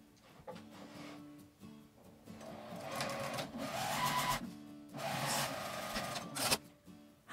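A sewing machine stitches a seam in Daiso cut cloth for an eco bag, running in close, fairly quiet bursts of rapid whirring, with short pauses between runs.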